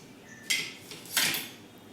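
Cooked dough poured out of a pot in a village kitchen, with two brief close scraping clatters of metal cookware about a second apart against a quiet background.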